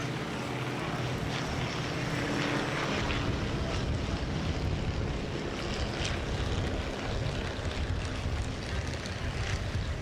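Stearman P-17 biplanes fly overhead during an Armed Forces Day parade in Torrance, California, making a loud, continuous engine drone mixed with broad outdoor noise.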